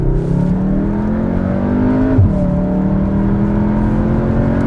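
A Cupra Formentor VZ's four-cylinder engine revs hard and climbs in pitch, drops briefly at a gear change, then pulls strongly again, loud and close from inside the vehicle.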